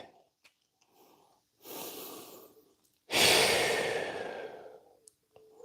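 Deep breathing during a stretching exercise in a home garage gym, a soft inhale followed by a longer, louder exhale rushing out close to the microphone, with quiet pauses between breaths.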